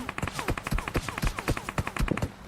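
Rapid automatic gunfire in the PUBG Mobile video game, a fast, evenly spaced string of loud, close shots lasting a couple of seconds.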